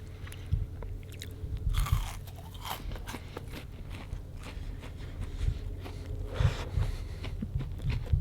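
Crispy fried crappie bitten and chewed at close range, with repeated loud crunches and chewing sounds over a quiet outdoor background.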